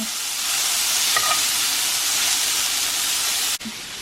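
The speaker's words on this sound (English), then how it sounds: "just throw the onions right in the pan" Onions frying in a pan for a French dip steak sandwich, a continuous loud sizzle with brief stirring, cut off abruptly near the end.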